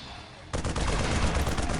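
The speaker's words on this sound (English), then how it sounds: "Dual Vanquisher cannons," Twin Vanquisher cannons on a Malcador tank fire in the Warhammer 40,000 strategy game Dawn of War with the Unification mod, a sudden heavy blast that holds as a dense, loud rumble.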